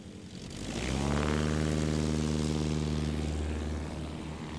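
A Legend MOAC 2015 experimental bush plane flies past at a STOL competition, its propeller engine swelling to a loud, steady drone with a strong harmonic hum before easing slightly as it passes.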